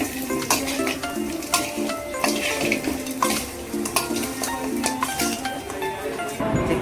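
Chicken for chicken kondattam frying with dried red chillies and masala in a pan, stirred with a spoon that scrapes and clinks against the metal in a steady rhythm over continuous loud sizzling.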